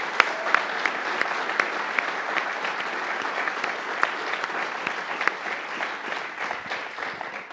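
Steady audience applause fills the room, a dense patter of many hands clapping continuously at an even level, with no voices.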